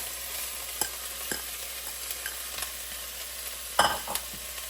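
Chopped onions frying in a pan for lentil soup give a low steady sizzle, broken by scattered spoon taps and scrapes and one louder clatter near the end, with nobody speaking.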